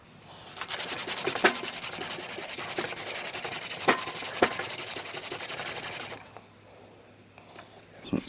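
A cracked brass nozzle is scrubbed clean with steady, rasping back-and-forth rubbing and a few sharper scrapes, close and fairly quiet, before the scrubbing stops and near silence follows.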